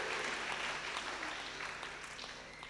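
A burst of clapping from a congregation at a Kikuyu Sunday School service in ACK St. Mark's Church Mukui, dense and sustained, easing slightly as it goes.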